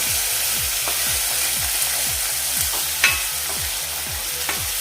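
Okra masala with tomatoes stir-fries over a low flame, giving a bright, constant sizzle with a rhythmic scrape of the spatula several times a second and an occasional sharp tap against the pan, close up and without speech.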